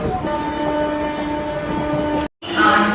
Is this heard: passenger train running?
yes